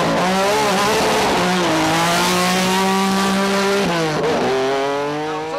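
A Ford Focus rally car engine roars loudly at a rally start, revving hard with rising and falling pitch sweeps as it accelerates, close and dominant throughout.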